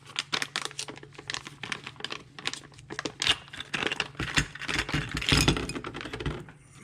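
A plastic package holding sprocket and road wheel parts for an SG 1203 Ripsaw RC tank kit is crinkled and handled up close, giving a steady run of loud crackling and rustling.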